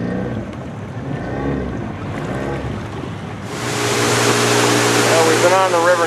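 A boat travels downstream on a river in Guyana. Its motor drones under talk at first, then rushing water and wind noise swell loudly for the second half while the voice continues.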